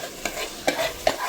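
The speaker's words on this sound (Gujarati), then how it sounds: "મીનાક્ષી દીદી બનાવે છે કાજુ કરીનું શાક અને વઘાર પણ નાખી દીધો છે" Onion paste and cashew curry gravy bubble and sizzle in a pan after tempering, with three sharp stirring scrapes over a soft continuous hiss.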